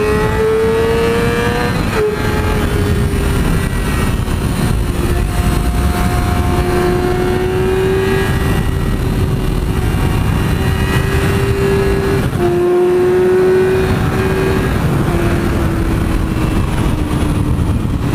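A 2017 Yamaha R6 600cc motorcycle accelerates hard through the gears, its engine whine climbing steadily in pitch with brief dips at each shift, loud and continuous against steady wind roar.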